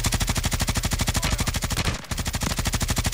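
Rapid automatic gunfire in Call of Duty Warzone on Rebirth Island, a loud continuous rattling burst that breaks off briefly near the end before resuming, with no talk over it.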